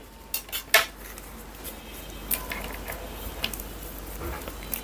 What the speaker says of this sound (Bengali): এটা দেখতে পাচ্ছেন অ্যাডাপ্টারটা আমরা খুলে নিচ্ছি